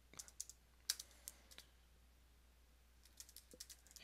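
Someone types on a computer keyboard, bursts of soft, close key clicks with a pause in the middle, fairly faint and with no talking.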